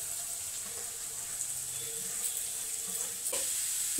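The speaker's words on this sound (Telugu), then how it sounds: "ఇప్పుడు మనము శుభ్రం చేసుకున్న అరటి పువ్వులు వేసుకోవడమే." Cleaned banana flowers added to onions frying in a pan make a steady, fairly quiet sizzle, with a few soft clatters and stirring sounds toward the end and no talking.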